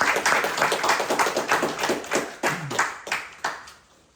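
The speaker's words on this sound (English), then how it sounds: "Can we give Jane a big round of applause?" A small group clapping their hands, brisk rapid applause close by that thins out and trails off into a few last claps.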